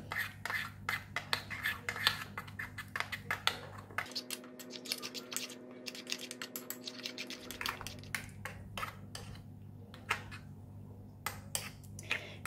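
A spoon clinks and scrapes rapidly against a bowl while chili sauce is mixed with salt and sugar, a busy run of light metallic taps, close and alone, with a brief steadier hum in the middle.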